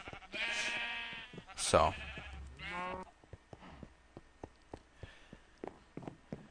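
Sheep bleat loudly several times in a Minecraft-style video game server, with a person speaking briefly before a series of soft, evenly spaced footsteps or taps continuing after the bleats.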